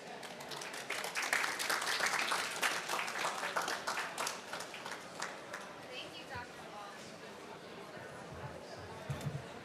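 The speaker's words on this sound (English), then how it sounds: "Big round of applause for Dr. Lal, please." An audience applauds a speaker at a COP29 carbon farming policy session, a dense burst of clapping that swells early and then thins out as it fades.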